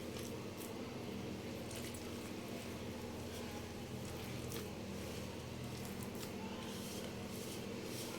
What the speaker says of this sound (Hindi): जैसे आटा गूंदते हैं इस तरीके से इसको आपने गूंदना है।